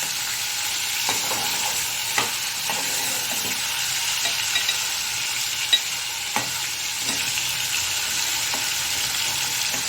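Chicken fries in a pan with a constant loud sizzle, broken now and then by the soft scrapes and clicks of stirring.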